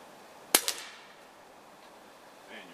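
Two sharp, close gunshots fired in quick succession at a target on a shooting range, followed by a fading echo and a quiet lull.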